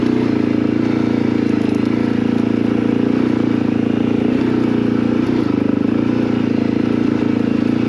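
Steady, loud engine drone of a Suzuki DRZ 400 motorcycle being ridden on the road, recorded up close and continuous throughout with no talk.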